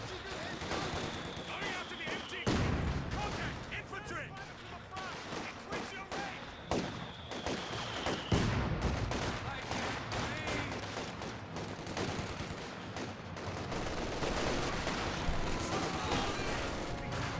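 Battle in Company of Heroes 2 with rapid bursts of machine-gun and rifle fire and sharp mortar impacts scattered throughout, a dense continuous fusillade with a voice talking over it.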